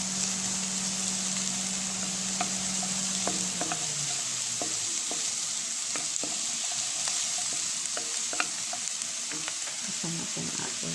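Garlic and red onion sizzle steadily in a hot pan for an adobong sitaw, with scattered clicks and scrapes of stirring over a constant frying hiss; a low steady hum fades out partway through.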